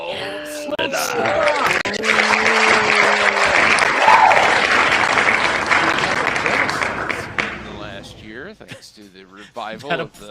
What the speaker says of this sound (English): That applause noise is never going to get old.